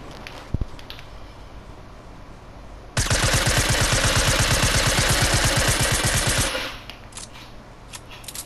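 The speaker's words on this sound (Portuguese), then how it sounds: "Só não sei de onde veio o tiro." Long, rapid burst of automatic gunfire in the Fortnite video game, loud and continuous for several seconds before cutting off, with quieter game ambience before and after.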